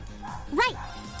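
A dog in the Trails of Cold Steel video game gives a single short, bright yelp midway through, set against low game background sound.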